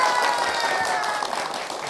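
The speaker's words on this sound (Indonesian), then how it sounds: "Tepuk tangan" An audience applauds at a Palembang-style traditional event with a comedic performance, a steady wash of clapping that holds for a couple of seconds and eases slightly toward the end, with no talk over it.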